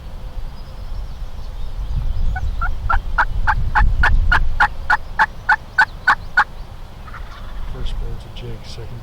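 Wild turkeys gobble in answer to a hunter's calls during a spring hunt, a loud rapid string of rattling gobbles breaking out midway over rumbling wind noise outdoors.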